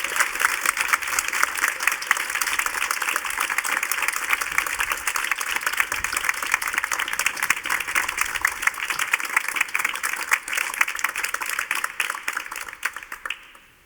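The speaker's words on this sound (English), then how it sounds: "I would like to ask you for one big round of applause for this fantastic panel." A seated audience gives a panel discussion a sustained round of applause, dense even clapping from many hands that holds steady throughout and tapers off at the very end.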